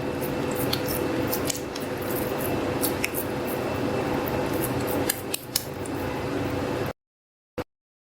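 Raw minced meat being shaped into kebabs with wet hands, giving soft squishy pats and slaps alongside faint kitchen clinks, steady for several seconds before falling silent apart from one last brief tap.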